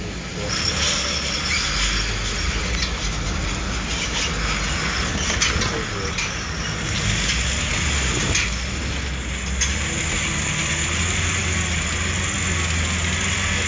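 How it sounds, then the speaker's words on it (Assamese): Vehicle engines rumble steadily along a hillside road under construction, a continuous loud drone of traffic and machinery filling the whole stretch with no pauses. "গাড়ীৰ শব্দখিনি জনাই আছে।"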